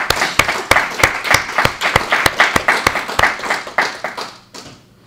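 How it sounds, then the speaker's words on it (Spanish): Sharp, rhythmic clapping from a conference audience at a congress on music, dance and ritual in Cáceres, beating in near-unison and fading out after about four and a half seconds. "yo creo que un aplauso para Chalena"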